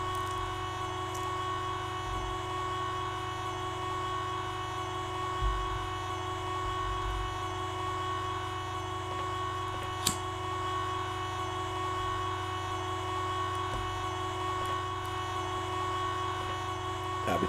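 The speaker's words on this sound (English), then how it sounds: "It's a long elevator ride." Long elevator ride in Star Wars Jedi Knight: Dark Forces 2, a steady mechanical hum with sustained tonal drone and faint rattle, unchanging throughout, with a single brief click partway through.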